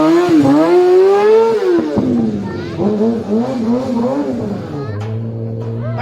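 A motorcycle engine revs up and down in rising and falling sweeps, loud and close, with a voice talking over it throughout.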